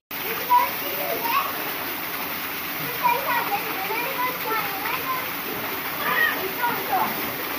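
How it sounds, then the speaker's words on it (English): Steady rushing water from the waterfall at Punch Bowl in Turkey Run State Park fills the whole stretch at moderate level, with voices, including a child's, talking over it now and then. "There's the waterfall."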